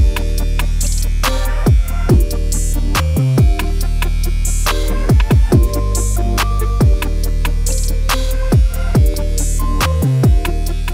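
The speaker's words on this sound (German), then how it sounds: "Jetzt starten wir ungefähr 2 cm unterhalb des Ohrläppchens mit einer Länge von 6 mm." An electric beard trimmer set to 6 mm works through a full beard just below the earlobe. It makes a loud, constant buzzing hum with sharp clicks and dips as it moves across the hair.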